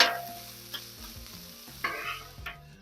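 Meat chopped and sizzling on a Blackstone griddle with adobo seasoning, a steady frying hiss under repeated scraping and clacking of a metal spatula, close and moderately loud.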